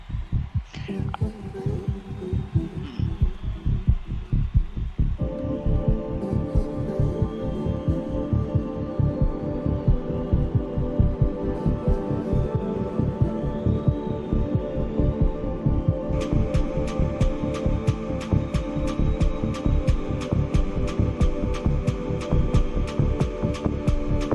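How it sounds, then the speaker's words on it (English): Rhythmic music track in the FUSER music game with a stuttered, low-pass-filtered effect pulsing steadily like a heartbeat, loud and continuous throughout, with brighter layered instruments entering partway through. "And I did the stutter with a low pass. And it made it sound like a heartbeat."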